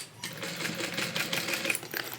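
A sewing machine topstitches a tote bag at a quarter-inch seam allowance in one steady, rapid run of close, clattering stitches with no pauses.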